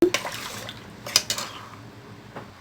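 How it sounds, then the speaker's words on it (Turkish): Water is poured into a pot of aşure, with clinking pot and utensil sounds, a few sharp taps and a light splashing pour, close and moderately loud, no speech. "Yarım litre su daha ekliyorum."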